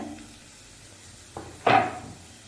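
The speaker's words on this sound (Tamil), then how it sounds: "வெங்காயம் நல்லா வதங்கணும்" Onions sautéing in a pan for prawn masala hiss softly, broken by a light tap and then a sharper metallic clink of a spoon against the pan.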